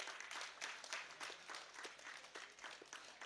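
Applause at an award ceremony in Gujarat as a recipient of the Chitrakoot Award steps up to be honoured; steady, dense crowd clapping fills the whole stretch at moderate level with no break.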